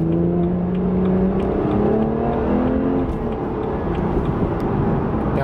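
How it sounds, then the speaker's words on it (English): BMW 1M accelerating on a highway, a steady close engine drone with a rising tone, heard from inside the car with constant road and wind noise underneath. "We can do a little acceleration on the highway here."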